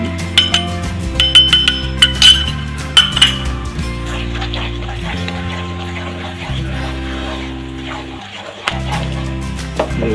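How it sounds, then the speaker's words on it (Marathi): A spoon clinks and scrapes against a metal pot while stirring a thick mango burfi mixture with milk powder, with repeated sharp taps over steady background music. "व्यवस्थित असं हलवून घ्यायचं"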